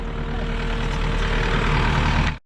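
A Kubota tractor engine idles at a driveway and building pad job, a loud, steady low diesel rumble close by that runs unchanged before cutting off abruptly at the end.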